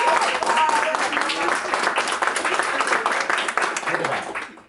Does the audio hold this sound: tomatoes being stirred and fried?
no